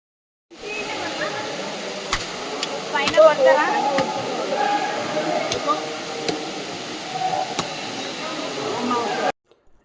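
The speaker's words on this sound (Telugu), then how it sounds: "ఈ వాటర్ ఫాల్ని స్క్రీన్ పైన చూస్తూ వాటర్ చేసే శబ్దాన్ని కూడా ఒకసారి విందాం" Steady broadband rushing of a waterfall at Saleshwaram fills the clip at moderate loudness, constant throughout, with faint voices and occasional clicks underneath.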